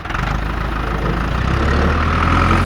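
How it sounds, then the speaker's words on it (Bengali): A concrete mixer truck's heavy engine idles with a deep, steady rumble, close and loud, holding constant before cutting off abruptly at the end. "একটা মিক্সার টাক।"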